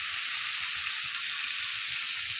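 Pumpkin frying in oil with salt and turmeric, a faint, steady hiss of sizzling with no talk.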